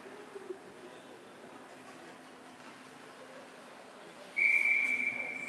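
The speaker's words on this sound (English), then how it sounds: "Shot and a swooping glove there from Austin for the whistle" A referee's whistle blows sharply at an outdoor winter classic ice hockey game after a goalie's glove save, a single loud sustained blast rising over steady arena crowd ambience.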